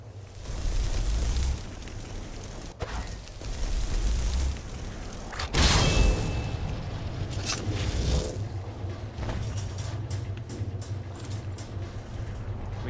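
A conjuration spell in Skyrim summons a sphere tank: a sustained rumbling roar, a deep booming whoosh midway, then lingering mechanical rumble and clanks.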